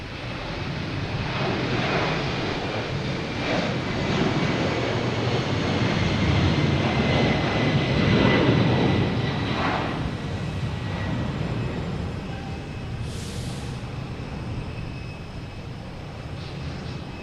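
A Delta jet airliner departing Boston Logan for Edinburgh gives a sustained, loud engine roar with a faint whine on top, swelling slightly in the middle before easing, heard alone.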